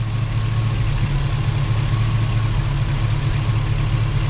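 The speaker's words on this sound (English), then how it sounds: "I don't want to let it idle too long." A Chevrolet Tahoe's engine idles during its break-in run after a rebuild, a steady low rumbling drone with a constant hum, close and even throughout with no voices.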